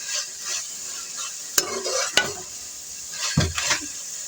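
Masala for chicken korma fries in a pot with a continuous sizzle, broken by a few sharp spoon scrapes and clacks of stirring and a louder stir toward the end, with no talking.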